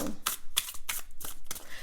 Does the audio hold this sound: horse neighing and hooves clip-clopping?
no